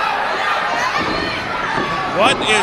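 Crowd at a professional wrestling title match roars and cheers in a busy arena wash, swelling louder near the end, with a brief spoken voice over the noise.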